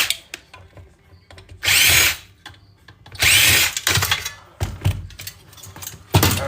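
Power drill backing screws out of scrapped e-waste electronics, two longer loud whirring runs and several short bursts among clicks and handling knocks, with no talk.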